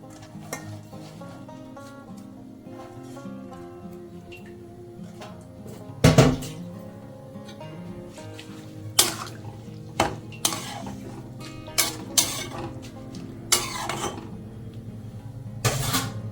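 Chopped taro leaves drop into a pan and are stirred while cooking, with one loud clatter at the start followed by a series of metallic utensil clinks and scrapes against the pan over a low background hum.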